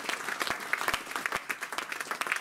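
A church congregation breaks into sustained applause, dense overlapping claps with a few sharper hand strikes standing out, fairly close and steady throughout with no talk.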